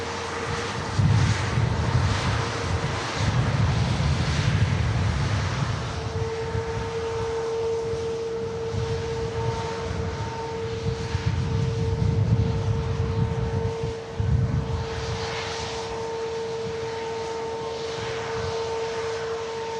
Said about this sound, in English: Qatar 350 filling your screen with a stunning aircraft